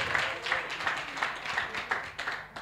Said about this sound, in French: Applaudissements encore Nori, s'il vous plaît.